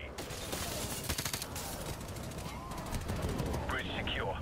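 Gunfire from Call of Duty 4: Modern Warfare Remastered, a ship-boarding mission, crackling in dense repeated bursts throughout under steady background noise and radio-style chatter, loud and continuous with sharp transient shots.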